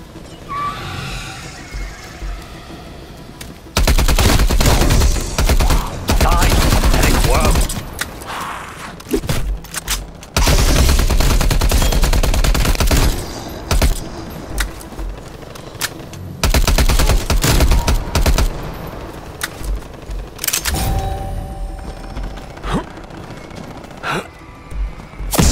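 A gun in Call of Duty: Cold War fires long, loud bursts of rapid automatic shots at close range, broken by short pauses and quieter gaps across the stretch.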